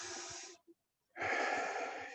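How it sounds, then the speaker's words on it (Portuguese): A person takes deep, airy breaths during a guided meditation, a long exhale, a short pause, then a strong breath drawn in and held, close and breathy. "uma respiração profunda"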